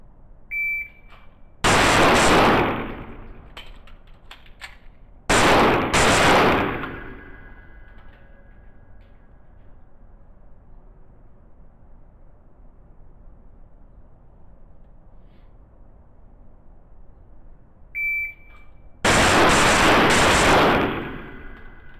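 STI pistols fired at a shooting range, three separate bursts of rapid loud shots, each preceded by a shot-timer beep, with long quiet stretches between strings.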